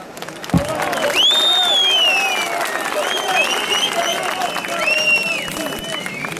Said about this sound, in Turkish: Hepinizi ayakta alkışlıyorum.